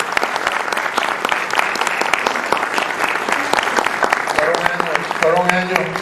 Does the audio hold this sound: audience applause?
yes